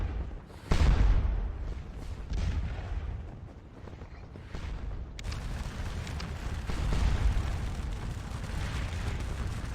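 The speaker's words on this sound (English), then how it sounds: "Nothing but cannon going off." Cannon fire in a Scourge of War Napoleonic battle game: deep booming reports, one sharp near blast early and others rolling in from a distance, over a constant rumbling battlefield ambience with no musket fire.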